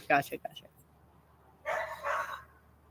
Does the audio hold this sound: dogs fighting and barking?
yes